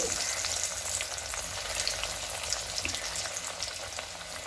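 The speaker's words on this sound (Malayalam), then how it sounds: "അതിലോട്ട് ഓരോ കട്ട്ലേറ്റും ഇട്ട് കൊടുക്കാം. ഒരു മീഡിയം ചൂടിൽ എണ്ണ നല്ല ചൂടായി കിടക്കുവാണ്." Fish cutlets fry in hot oil in a pan over medium heat, Kerala style, giving a dense, continuous close sizzle and crackle with no pauses.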